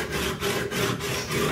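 A tool being sharpened on a Harbor Freight diamond sharpening block, heard as close, loud, rhythmic rasping strokes, roughly four back-and-forth passes in quick succession.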